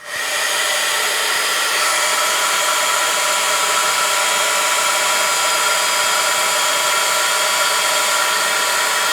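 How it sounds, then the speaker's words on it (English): A crafting heat tool blasts hot air to clear glue strings, producing a steady, close whooshing roar like a hair dryer that switches on and runs unbroken throughout. "I need to grab my heat tool, and then we're going to just blast this."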